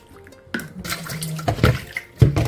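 Tap water splashes in short, uneven bursts while a clay cooking pot is rinsed. The pouring and splashing sound close, with brief pauses between them.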